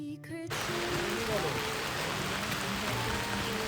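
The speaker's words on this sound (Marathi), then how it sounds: "पाऊस आता थोडा थोडा वाढत चाललेला आहे" Steady monsoon rain during a trek up to Sinhagad fort in the hills, a dense continuous hiss that fills the whole stretch after a brief quieter moment at the start.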